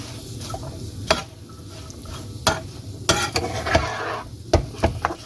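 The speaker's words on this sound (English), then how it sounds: "give it a good stir" Carrots, chilies, garlic and sugar sizzle gently in a pan while a utensil scrapes and knocks against it in irregular stirring strokes over a steady frying hiss.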